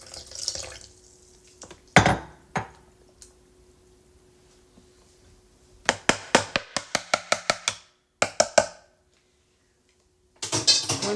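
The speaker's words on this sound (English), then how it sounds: "So I'm going to add a little bit more water, not much more." Water being added to a homemade natural hair growth conditioner mix, heard as a quick run of sharp dripping and splashing bursts, with a few wet squishes earlier and a final splash, close and otherwise quiet.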